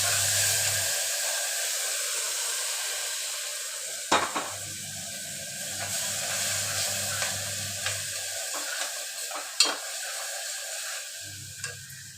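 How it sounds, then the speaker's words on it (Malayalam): Crushed ginger and garlic sauté in a pan for mutton masala curry, a constant bright sizzle broken by several sharp scrapes and clinks of stirring, with a low hum coming and going underneath. "നല്ലവണ്ണം പച്ചമണം മാറുന്നത് വരെ മൂപ്പിക്കാം"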